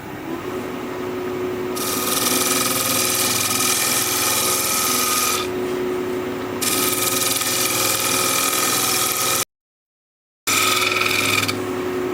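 A gouge scrapes a hard oak-root bowl spinning on a lathe, a continuous rasping hiss that swells and eases in long passes, with the lathe's hum underneath and a short break near the end.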